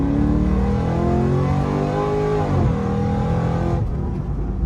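A car accelerating hard on a test drive after front suspension repair, its engine pitch climbing steadily and loud and close, then easing off near the end.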